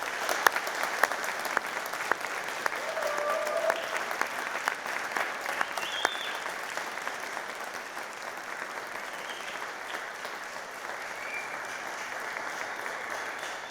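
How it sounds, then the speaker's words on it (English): A university graduation audience in Manchester clapping and cheering, sustained applause from a large hall crowd with occasional whistles and shouts, gradually softening toward the end. "I want you to give the biggest cheer and round of applause"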